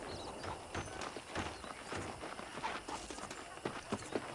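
Horse hooves clip-clopping at a steady walking rhythm in the Western video game Red Dead Redemption, each strike crisp and close, over a faint ambient background.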